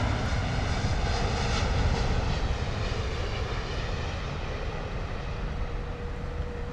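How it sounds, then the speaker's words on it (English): A British Airways Boeing 787-8 Dreamliner arriving from Pittsburgh lands at London Heathrow, its engines giving a steady, loud rumble and whine that eases slightly toward the end, with no voices. "British Airways 787-800 Dreamliner coming in from Pittsburgh."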